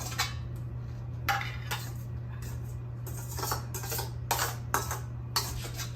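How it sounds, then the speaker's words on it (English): A spoon scrapes and clinks against a bowl while a mixture is spooned into a cheese mixture for a no-bake dessert, giving a run of close, sharp metallic taps and scrapes separated by brief pauses over a low steady hum. "So now I'm just gonna spoon that into our cheese mixture"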